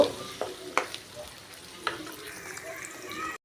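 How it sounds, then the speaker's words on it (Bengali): Chopped onions frying in oil for a hilsa and bean curry, a soft, faint sizzle broken by a handful of louder scrapes and taps as they are stirred in the pan. "পেঁয়াজটা দেওয়া হয়ে গেলে ভালো করে নাড়াচাড়া দিয়ে নিব এই পেঁয়াজটা হালকা একটু ভাজা হলে"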